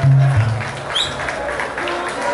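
An audience at a live Latin music concert breaks into applause and crowd noise, a dense wash of clapping carrying under lingering music tones and a voice over a PA.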